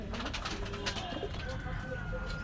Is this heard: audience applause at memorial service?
no